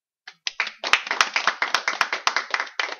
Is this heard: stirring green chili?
no